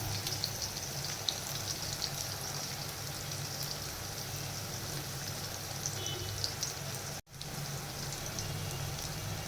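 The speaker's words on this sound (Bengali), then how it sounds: "এটা এখন মচমচ করে বাজবো মচমচা ভাজা" Steady, dense sizzle of raw banana chips frying in hot oil, a continuous crackling hiss throughout with no voices.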